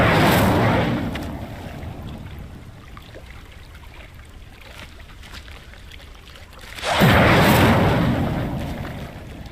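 A whooshing, roaring burst of the Incendio fire spell in Hogwarts Legacy, loud at the start, fading to a low rumble, then a second fiery blast flares up before trailing off, with no talk over it.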